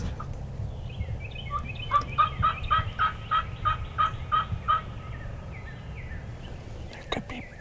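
Wild turkeys gobble in a quick, rhythmic burst of about eight calls at moderate distance, over low background rumble during a hunt down south, with a faint whisper nearby.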